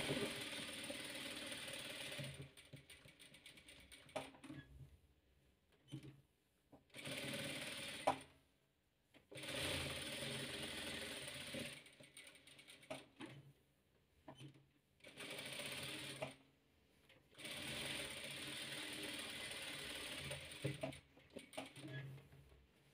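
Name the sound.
sewing machine stitching around patchwork quilt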